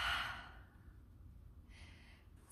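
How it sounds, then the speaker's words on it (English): A single soft exhale out through the mouth during a power yoga session, a breathy sigh close by in the first half second, then quiet with faint breaths later. "exhale out the mouth."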